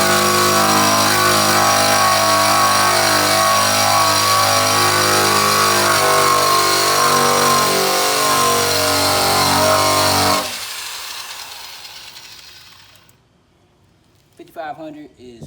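A rotary surface rust removal tool spins at around 5,500 RPM on a Chevy, a loud, steady high-pitched whine for about ten seconds before it winds down and fades, with a few faint clicks afterward.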